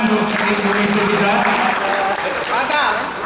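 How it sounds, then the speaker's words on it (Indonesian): Applause from the audience at the closing session of a national coordination meeting, filling the hall as a dense, steady wash of clapping with a voice talking over it throughout. "Bapak Fahdur Razi, tepuk tangan untuk steering komite kita."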